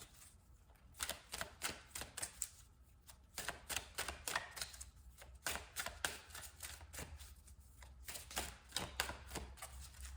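Tarot cards are shuffled in rapid riffling bursts, crisp and close, repeating several times with brief pauses between.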